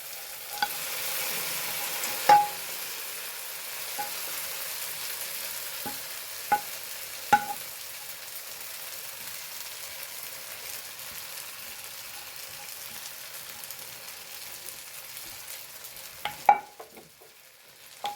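Chicken fries in a pan with masala for a jackfruit biryani, giving a soft, steady sizzle close by with a few sharp clinks of a utensil against the pan and no talking.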